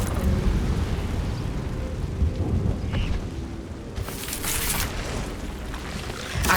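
Fire spell cast in the Hogwarts Legacy game: a loud, sustained roaring, rumbling burst fills the whole stretch, with a brighter hissing crackle surging near the end, like flames erupting and burning continuously.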